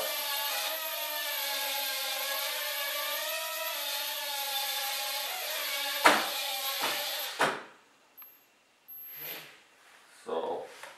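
A Hubsan X4 107L quadcopter drone with one unstable, shaking propeller whirs in flight with a steady high-pitched buzzing tone, then stutters and cuts out in several abrupt bursts near the end.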